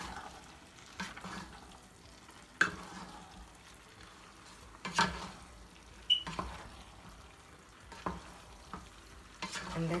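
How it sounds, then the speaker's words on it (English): Tuna gravy being stirred into pasta in a pan, soft wet scraping and clicks of a utensil repeating at irregular intervals over a quiet low sizzle. "I'm gonna add the tuna gravy, stirring."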